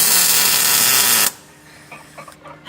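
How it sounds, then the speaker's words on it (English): Welding on the steering column of a motorbike-swapped van, a loud steady crackling hiss that runs for about a second and then cuts off abruptly, leaving faint workshop noise. "Marek, don't look on the welding"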